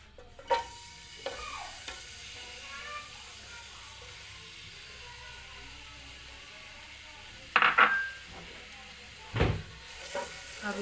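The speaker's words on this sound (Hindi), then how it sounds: "अब मैं डालूँगी इसके अंदर ऑयल और डालूँगी कटी हुई प्याज।" Chopped onions go into hot oil in a pan, with a faint low sizzle punctuated by a few sharp clanks and clattering bursts of utensils against cookware.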